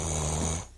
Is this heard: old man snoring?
yes